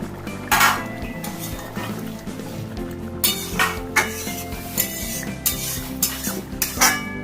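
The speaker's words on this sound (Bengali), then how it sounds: "10 মিনিট হয়ে গেছে, ঢাকাটা খুলছি" A cooking pot lid lifted off a pot of prawn and pointed gourd curry, giving loud, close metallic clanks and clinks that repeat in short bursts over a steady low kitchen hum.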